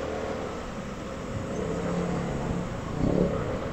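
A steady Motorstar ADV175 motorcycle engine drone with road noise in traffic runs throughout, swelling briefly near the end as the engine revs, with no voices.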